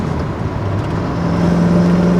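A 6-speed manual swapped Mercedes-Benz 560SL with a 300-horsepower engine drones close by while driving, a steady low engine hum that climbs slightly in pitch as it pulls.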